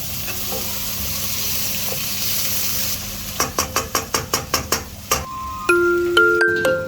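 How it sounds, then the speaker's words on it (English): Meat paste browning in a pan for spaghetti and meatballs gives a steady close sizzle, joined midway by a run of rhythmic metallic taps from stirring and a few utensil clinks. "So I'm gonna let this brown, and then I'm going to add in the onions and a bit of carrots."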